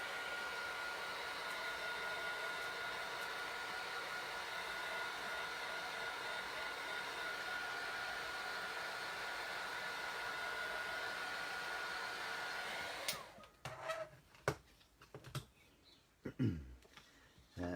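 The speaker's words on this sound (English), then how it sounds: "just give it a quick blast with your heat tool" A heat tool blows a steady, loud whooshing drone to dry alcohol ink, running continuously for about thirteen seconds before cutting off, followed by faint handling clicks and rustles.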